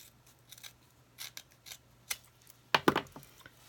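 Scissors snip through bird-feeder craft material, a run of short crisp cuts at an irregular pace with a louder cluster of snips near the end, heard alone up close with no talking.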